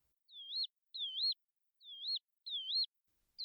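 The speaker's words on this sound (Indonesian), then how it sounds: "Itu adalah burung lark yang bernyanyi begitu sumbang." Lark song used as an effect in a Romeo and Juliet audio drama: four clean, identical rising-and-falling whistled chirps in an evenly spaced series, clear and close against silence.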